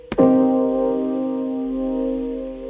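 A single piano chord struck once, then left to ring and sustain steadily with a soft, jazzy minor-seventh color, fading slowly.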